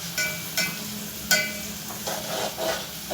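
Ground tomato purée poured into onions frying for a paneer curry, with a soft steady sizzle and a few scraping stirs of a spoon against the pan, close up with no talk.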